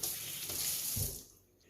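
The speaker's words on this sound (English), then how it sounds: "So I'm going to go ahead and rinse this off real quick." Running tap water rinses an item at a kitchen sink during pulled pork sandwich prep, a steady broadband splash for about a second and a half before cutting off.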